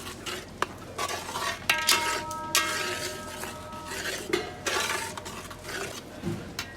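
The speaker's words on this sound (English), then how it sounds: "So we'll add the fried onions and cook it for some time." A spoon stirs fried onions into a simmering biryani base, giving uneven scraping and clinking against the pot over a soft, continuous sizzle, close and fairly loud.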